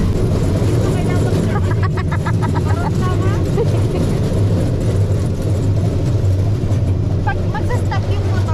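A motor engine hums steadily on a boat ride at Nami Island, South Korea, a constant low drone close by, with people talking over it throughout.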